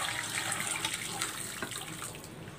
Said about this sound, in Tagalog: Ibubuhos natin itong chicken broth dito sa tokwa.